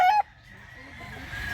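Young gamecock stags at a farm in Mantalungon, Barili, with a short bright crow cut off sharply, then low clucking and soft farmyard murmur, close and fairly loud.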